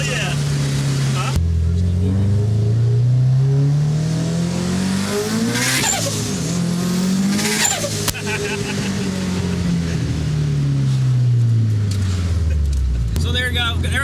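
A built Subaru STI engine making 550 wheel horsepower, revving loudly up through the gears with pitch sweeping up and falling at each shift, heard close and continuous with a sharp break near the end.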